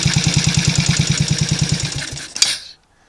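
Triumph Tiger Cub motorcycle engine running on the bench with a fast, even single-cylinder beat, loud and close, then slowing and cutting out after a short clatter, leaving silence.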